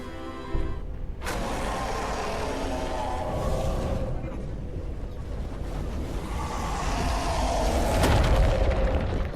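An explosion in the video game Clair Obscur: Expedition 33 erupts into a loud, sustained rumbling blast that swells again near the end, over dense game sound effects.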